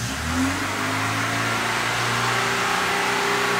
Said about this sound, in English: when you start this car up, it kicks into like overdrive when it's starting to rev